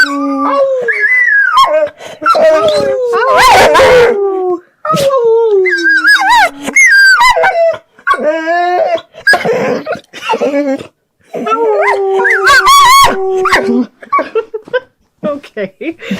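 A pit bull howls on command in a series of drawn-out, wavering, rising and falling howls mixed with short yips. People talk and urge her on between the howls, and a human voice may imitate the howl.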